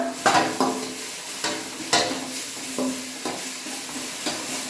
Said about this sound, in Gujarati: ડુંગળી તેલમાં તમારે સસડાઈ લેવાની